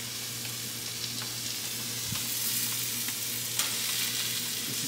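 Sour cream mushroom gravy with onions in broth stirred in a pan, a soft steady sizzle and bubbling with a few faint spoon scrapes, quiet and continuous with no voices.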